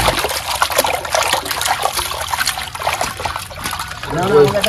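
Water trickles and splashes as catfish (magur) pieces are washed in a basin in a Bengali village kitchen, a steady dribbling wash close by with voices talking over it.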